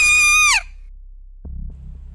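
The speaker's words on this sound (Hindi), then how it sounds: "तभी किसी के चीखने की आवाज सुनाई दी।" A loud, high shriek as a scream sound effect in a Hindi horror story, ending in a sharp falling cry, followed by silence and then a low, throbbing heartbeat-like pulse.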